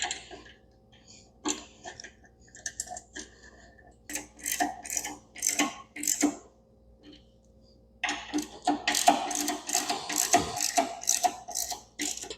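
Hand tightening of seat bolts with a 5/32 hex key on a 2023 Harley-Davidson 120th Anniversary Fat Boy, heard as soft ratcheting clicks and scraping in short bursts, growing denser near the end, with no talk.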